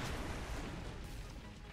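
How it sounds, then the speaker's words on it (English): An explosion in the video game XCOM 2 rumbles as a dense, sustained boom with crackling debris, fairly loud and continuous, with no voices over it. "Nice little explosion."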